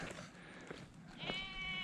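A sheep standing on a cliff edge along the North Wales coast between Llandudno and Conwy gives a clear, moderately near bleat late in the moment, over steady outdoor wind noise.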